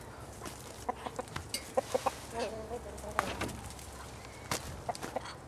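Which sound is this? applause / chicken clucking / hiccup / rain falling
chicken clucking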